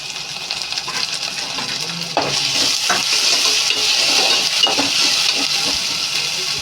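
Onion and ginger garlic paste fry in a pan for a fish curry, a steady loud sizzle and hiss with a few clinks and stirring scrapes partway through, no voices.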